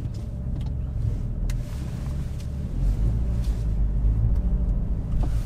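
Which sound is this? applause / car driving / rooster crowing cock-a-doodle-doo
car driving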